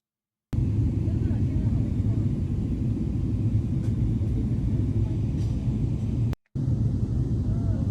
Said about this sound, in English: And this is the takeoff